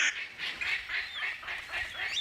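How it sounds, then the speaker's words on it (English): A palm cockatoo calls in Australian rainforest, a series of harsh, honking squawks repeated in a steady rhythm, fairly close and clear with no talking. "His quest was to unlock the secrets of the world's most spectacular cockatoo, the palm cockatoo."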